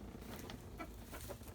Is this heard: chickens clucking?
yes